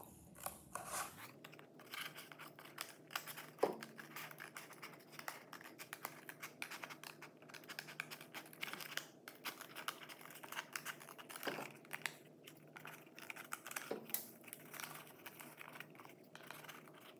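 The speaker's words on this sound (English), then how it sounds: "we're just going to take the scissors and trim all of that off" Scissors trim white paper off a geometric bowl, making quiet, close snips with soft crinkling and rustling of paper. The snips come in a steady, irregular series and no voices are heard.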